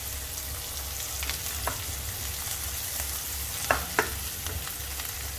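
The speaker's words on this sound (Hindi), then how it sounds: "अब इसमें डाल देंगे 2 कुटी हुई लहसुन। अदरक नहीं डाल रही हूँ, सिर्फ लहसुन ली हूँ। लहसुन भी हमारा प्याज के साथ भुन जाएगा।" Garlic and onion frying in a pan for Sindhi-style bhindi sabji, a steady soft sizzle with occasional clinks of a stirring spoon, fairly quiet and continuous with no talking.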